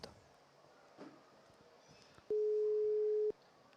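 A telephone call that goes unanswered ends in a single busy tone, a sharp steady beep lasting about a second, loud and close over a faint quiet room background.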